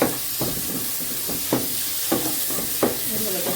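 Spice paste for a Bengali rui fish kofta curry sizzles and fries in a pan, with a steady hiss and repeated stirring scrapes coming about once a second.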